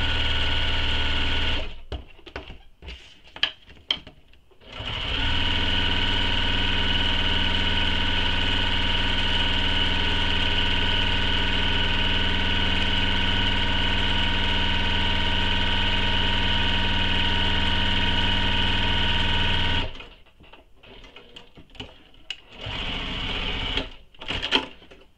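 Stitching down one side of a quilting-cotton strap for a mini crossbody bag, a sewing machine hums in a long, steady, loud run, framed by brief bursts of handling clatter before and after.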